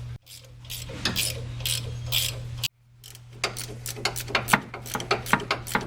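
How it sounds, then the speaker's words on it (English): A ratchet works the shock absorber bolts loose on a Land Rover Discovery, with bursts of rapid clicking near and loud, a short pause, then more clicking strokes. "take those two bottom bolts out, take those four bolts out, and get the shock absorber out of here"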